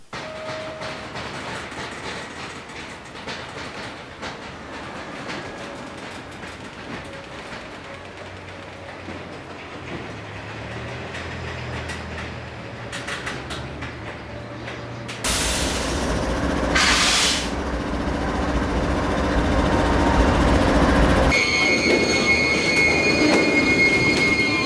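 A long, heavy freight train of about 20,000 tons rolls past with a continuous rumble and clatter of wheels on track, metallic squeals and hissing rising as the cars go by.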